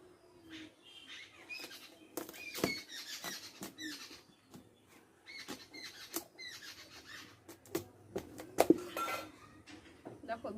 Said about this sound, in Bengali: তাহলে চলো কুমড়োটা কাটি